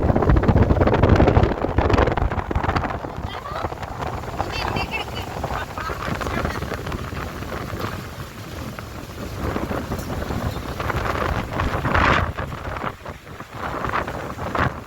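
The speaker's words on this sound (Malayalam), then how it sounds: "നല്ല അടിപൊളി കാറ്റുണ്ട് ഈ വീശിക്കൊണ്ടിരിക്കണേ" Strong wind gusting near Sitakund dam in Bihar, roaring and buffeting the microphone in a loud, continuous rush that swells and eases over the whole stretch, with no talk.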